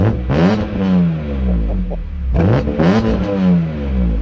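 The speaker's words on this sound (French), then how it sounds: "Échappement Scorpion." A BMW M3 E46 with a Scorpion exhaust revs hard twice, each rise climbing steeply and falling back to a throaty idle, loud and close with no talk.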